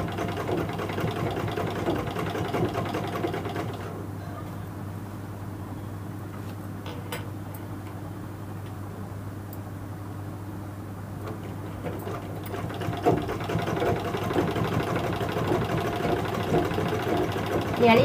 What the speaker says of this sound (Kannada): ಈಗ ಹಿಂಗೆ ಇಟ್ಕೊಂಡು ಒಂದು ಹೊಲಿಗೆ ಹಾಕೊಂಬನ್ನಿ